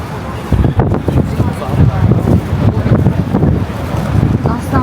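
Strong wind blowing outdoors in Japan, roaring and buffeting hard against the microphone as a loud, continuous gusty rumble that starts abruptly and persists throughout, with a voice partly buried beneath it.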